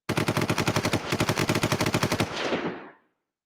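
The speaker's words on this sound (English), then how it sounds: "Gunshots. Definitely gunshots for that" A rapid burst of automatic gunfire, about twenty shots in an even rhythm, loud and close, ending in a short fading echo.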